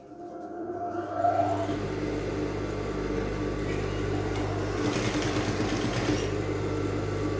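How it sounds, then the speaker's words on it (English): A sewing machine stitches boning casing onto fabric, a steady close mechanical whirring hum that builds after a quiet start and runs on without a break. "and then I'll sew it down."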